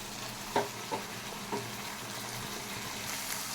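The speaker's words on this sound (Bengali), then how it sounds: "আমি আর একটুখানি শুকিয়ে নিচ্ছি পোস্তটাকে" Poppy seed paste dries in a frying pan with a quiet, steady sizzle, broken by a few soft stirring scrapes.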